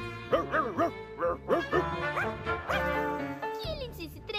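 A cartoon puppy yaps and yips in quick bursts, with bouncy rising and falling barks up close, and a brief jingle near the end, in an animated children's show.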